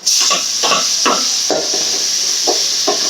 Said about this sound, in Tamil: வெங்காயம் பூண்டு எல்லாம் போட்டு வதங்கிடுச்சு